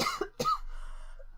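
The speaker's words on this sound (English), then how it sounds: "and then I started coughing" Two sharp, close coughs in quick succession, each a brief harsh burst, with no talking.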